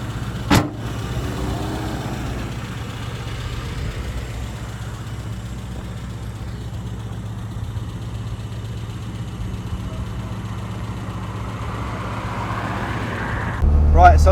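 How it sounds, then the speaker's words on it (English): A restored 1991 Rover Mini City-E 1000 drives along with its small engine humming steadily and close throughout, a brief knock near the start and a louder burst at the end. "Right, let's take it for a drive"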